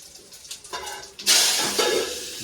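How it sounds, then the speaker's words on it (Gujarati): A sudden burst of hissing sizzle as spices hit hot oil for a tempering, loud and close, continuing steadily after a few softer clinks and rustles. "જો ગાઈસ વઘાર થઈ ગયો."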